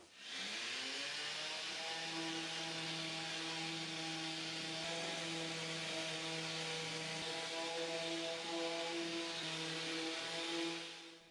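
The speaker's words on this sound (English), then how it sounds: "let's get sanding" A steady, loud power-tool drone with a strong harmonic whine from sanding the wood of an antique apothecary cabinet with sanding mesh, unbroken for about eleven seconds, close to the microphone, with no talking.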